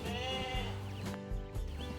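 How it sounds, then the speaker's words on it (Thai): A sheep bleats loudly and up close several times in quick succession, its wavering calls filling the short moment on a farm resort at Khao Yai, Thailand. "มีพี่แกะอารมณ์ดีเนี่ยครับ"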